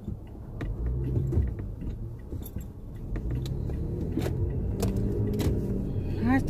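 A car rumbles past on the road with steady low engine and tyre noise, a few faint clicks and jingles on top, no voices.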